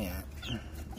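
Rhode Island Red and Sussex hens in a farm coop give soft, low clucks, close but faint, under quiet background noise.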